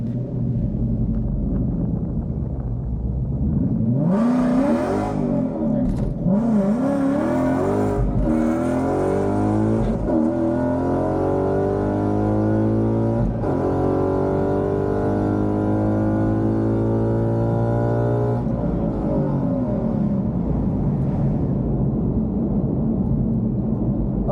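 A drag race car launches and makes a full pass, its tires spinning at the start, then the engine climbs through sweeping rising revs across several gear changes, loud and continuous.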